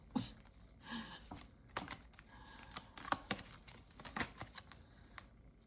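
Rapid riffling and clicking of tarot cards being shuffled, a series of crisp, close taps and flutters in quick irregular bursts.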